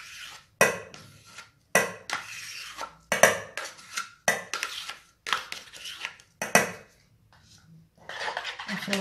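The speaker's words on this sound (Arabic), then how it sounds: "نخلط الدانون مزيان" Yogurt being stirred in a bowl with a utensil for a cream cake filling, giving repeated short clinking scrapes against the bowl in an irregular rhythm, close and fairly clear with no talk.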